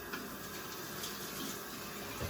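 Tap water runs steadily as a coffee maker part is rinsed out, a soft continuous splashing stream heard close and alone, without talking.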